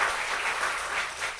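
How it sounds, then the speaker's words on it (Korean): A church congregation at a Sunday evening Baptist service gives a burst of dense, steady applause, many hands clapping together close by. "우리 감사와 축복의 박수 한번 보내겠어요"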